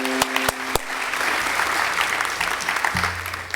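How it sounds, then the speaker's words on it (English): Audience applause at a conference session for a moderator, steady full clapping from the room with a few sharp clicks and a low hum underneath. "why not a round of applause for the moderator,"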